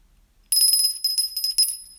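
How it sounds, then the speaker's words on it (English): A small bell rung rapidly in a quick series of bright metallic dings, loud and close, used to wake someone up, after a moment of near silence. "That bell was for Waxman trying to wake him up."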